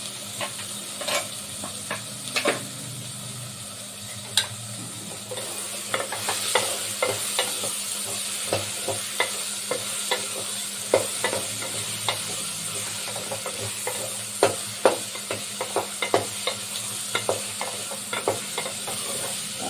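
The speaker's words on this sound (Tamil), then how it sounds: "நல்லா வதங்குது. நல்லா வதங்கினா தான் குழம்பு வந்து சூப்பராக இருக்கும்." Onion and tamarind mixture sautéing with rock salt in a pan, a steady close sizzle with frequent sharp scrapes and clicks of a stirring spoon throughout, no voices.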